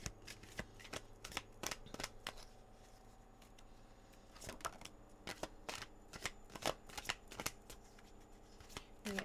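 Tarot cards are shuffled by hand at close range, giving a crisp, irregular run of riffling slaps and flutters that come in bursts across the whole stretch.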